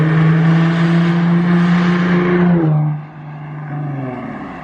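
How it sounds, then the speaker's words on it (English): A VQ-engine GTR with a custom straight-pipe exhaust drones loudly and steadily up close, then the note drops sharply as the revs fall away to a lower idle. "that exhaust is extremely loud. After all, it's a freaking straight pipe on a VQ"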